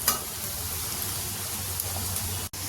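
Onions and mixed vegetables for a vegetable biryani sizzle steadily in a hot pan, a continuous crackling fry with one brief dropout near the end and no talk.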